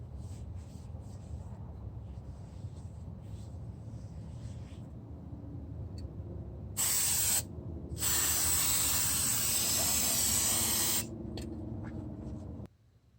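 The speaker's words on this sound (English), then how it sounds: "we'll need to spray them with brake parts cleaner" Two bursts of aerosol brake parts cleaner hiss onto a brake rotor of a Nissan Titan, a short one then a longer steady blast, over a low background rumble.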